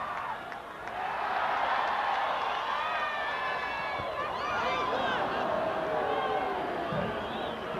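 A large stadium crowd at an international football match, Canada versus Brazil at the 1996 Gold Cup, fills the air with a sustained roar of shouts and whistles. A commentator talks over it throughout.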